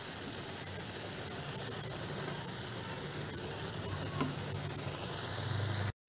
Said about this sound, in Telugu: ఈ పాలన్నీ ఇంకిపోయే వరకు ఉడికించుకుందామండి